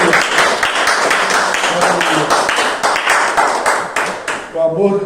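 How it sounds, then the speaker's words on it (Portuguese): A church congregation claps and applauds in praise, a dense run of hand claps that thins out near the end as voices join in. "Você pode dar aplauso ao Senhor Jesus?"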